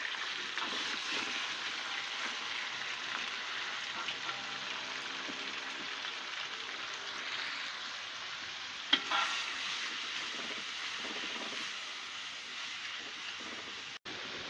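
Minced beef fries in a pan for a potato beef hash, a steady broad hiss of sizzling that holds evenly throughout, with one brief knock partway through and a sharp click near the end.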